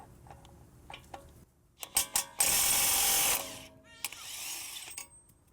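An impact wrench loosening a 36 mm axle nut on an Acura RL: a few short ratcheting taps, then a loud sustained hammering burst of about a second, and a fainter follow-up run with a final tap.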